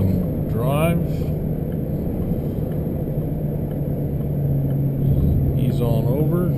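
A vehicle in third gear shifting up while merging onto a freeway gives a steady, close engine drone with road rumble, and the pitch changes briefly near the end.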